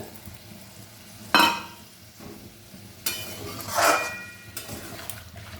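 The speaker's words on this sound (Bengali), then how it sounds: "আমি একটুখানি ভেজে নিলাম উল্টে পাল্টে" Fish frying in a pan while it is turned over, with a few loud bursts of sizzle and a clink or two of a utensil against the pan between quieter stretches.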